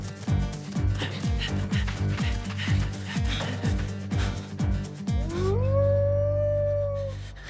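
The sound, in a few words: wolf howling in cartoon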